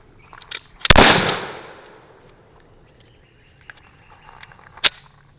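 A Glock pistol fitted with a CAA Micro Roni stabilizer fires two loud, sharp shots about four seconds apart on a range, the first trailing off in a long echo.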